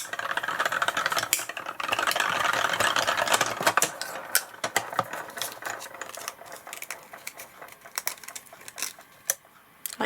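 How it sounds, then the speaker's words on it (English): A Sidekick die cutting machine presses a frame through its rollers, giving a steady run of small clicks and rattling taps over about ten seconds, fairly close and moderately loud. "So we can quickly die cut this frame."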